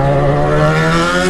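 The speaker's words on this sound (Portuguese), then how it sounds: "O ronco da XJ tá falando mais forte." A Yamaha XJ6 motorcycle engine drones steadily and loudly at close range, a sustained even roar with no speech.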